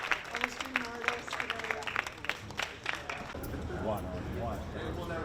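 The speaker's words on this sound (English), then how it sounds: "let's applaud all these great student readers, all the artists, all the student artists" An audience claps for student readers and student artists at a school media event, scattered applause with voices over it at first, then a denser, steadier round of clapping toward the end.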